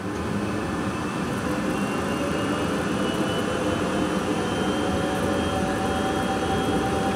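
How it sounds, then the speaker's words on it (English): A jet aircraft makes its takeoff roll at London City Airport, heard as a steady, loud, broadband engine roar with a faint high whine on top, continuous and unchanging throughout. "In this video, we'll do a takeoff and a landing."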